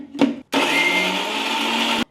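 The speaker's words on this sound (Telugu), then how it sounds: "మిక్సీ జార్లో తీసేసుకుంటున్నాను. కొద్దిగా వాటర్ వేసుకొని దీన్ని పేస్ట్ చేసేసుకోవాలి." Garlic and a little water are ground into a paste in a mixer grinder jar, a loud steady whirring that runs for about a second and a half after a brief knock.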